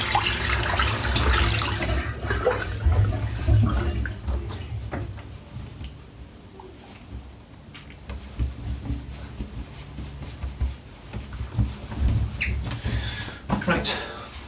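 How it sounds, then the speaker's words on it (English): Used shaving water pours and splashes into a sink, a running, gurgling wash with some clatter, while someone talks throughout. "Just going to empty this water out."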